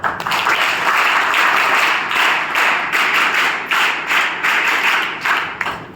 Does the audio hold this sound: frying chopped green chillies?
no